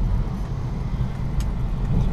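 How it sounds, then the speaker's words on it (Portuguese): Steady road traffic on a city avenue, a continuous low rumble of passing cars heard from inside a Honda Civic, fairly close and without talk. "Olha o trânsito agora, como é que tá"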